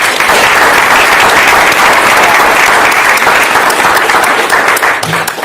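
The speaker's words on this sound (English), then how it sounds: "everybody give them a round of applause" Audience applause at a Long Beach economic update club meeting, a steady dense round of clapping from a sizeable crowd, loud and continuous, fading slightly at the end.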